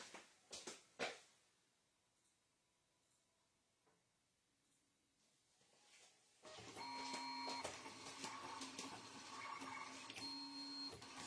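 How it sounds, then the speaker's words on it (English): A vinyl cutter slices metallic puff heat transfer vinyl, loaded shiny side up, with a steady whirring, clicking mechanical run that starts abruptly partway in after a few faint knocks and continues close and moderately loud. "I'm just going to go send this to my cutter"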